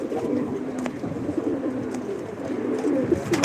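Dozens of pigeons coo together indoors, a dense, continuous murmur of overlapping low calls filling the room at close range.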